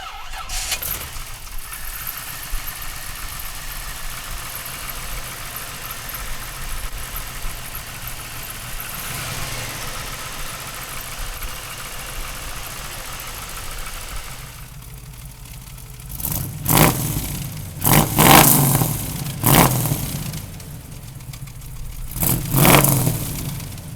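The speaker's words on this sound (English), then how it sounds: "we got the 61 Corvette out for a little cruise" A 1961 Chevrolet Corvette engine idles steadily and nearby, then rises in several loud revving bursts toward the end, with no voices.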